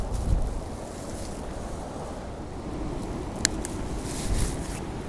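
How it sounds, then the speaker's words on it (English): Gusty wind from a strong storm buffeting the microphone outdoors at an allotment, a rumbling roar that swells and eases, with a faint rustle and one brief click. "it is windy."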